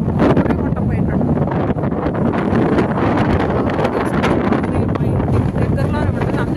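Strong wind by the sea at Aberdeen, a loud continuous rumbling buffet battering the microphone throughout, with a voice faintly underneath.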